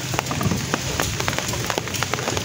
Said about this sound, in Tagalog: Lakas na ng ulan guys oh.